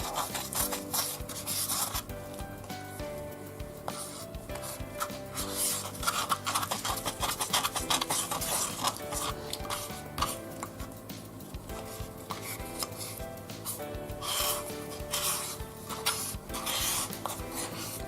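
Premium Aussie SuperFlex clay being mixed and scraped in a container with a screwdriver, a continuous close rasping and rubbing with uneven strokes over about eighteen seconds.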